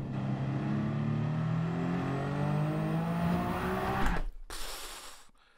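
Race car engine in Gran Turismo 7 revving high and climbing through the gears, loud and close, then cutting off abruptly near the end with a brief burst of noise; no speech.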